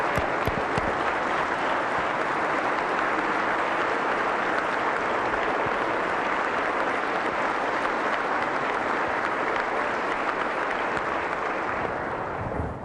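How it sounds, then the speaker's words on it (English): A crowd at a governor's State of the State address claps steadily for a guest in the audience, a loud, sustained wash of applause lasting over twelve seconds. "please give her a big round of applause"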